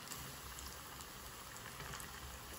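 Four coxinhas with potato dough frying in hot oil, a steady, even bubbling hiss with dense fine crackle, moderately close and quiet, no voices.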